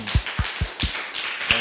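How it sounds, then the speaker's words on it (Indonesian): Children in a classroom clap their hands together in an even rhythm, about seven crisp, close claps in quick succession with no talking. "Tepuk tangan."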